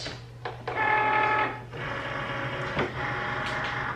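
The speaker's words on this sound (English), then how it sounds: "We're going to load up our Cricut." A Cricut cutting machine loading material, its small motor whirring steadily with a tonal hum, then shifting pitch and clicking as the mat feeds through. Close and fairly quiet, no speech.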